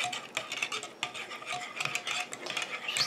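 Urea is stirred into the water phase of a rose hand cream in a bowl, a close, uneven scraping and clinking of a utensil against the bowl in quick repeated strokes, with no voices.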